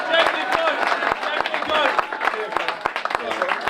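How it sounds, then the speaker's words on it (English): Loud, sustained applause from a crowd at a football club end-of-season awards night, dense clapping filling the room continuously throughout. "big round of applause for Jamie as well"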